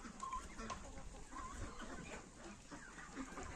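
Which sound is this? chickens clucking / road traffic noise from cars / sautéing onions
chickens clucking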